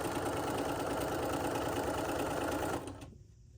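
Sewing machine back stitching a quarter-inch seam on a pillow: a fast, steady mechanical whir running close and alone for about three seconds before stopping abruptly.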